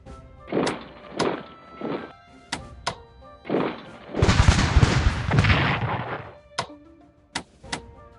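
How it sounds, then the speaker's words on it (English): Artillery fire in a strategy video game: a series of sharp booming shots and thuds, spaced irregularly, with a longer rumbling burst of explosions in the middle, loud and close, no talk. "3 artillery hits, basically no bigger damage, and they were blasting us out of the position"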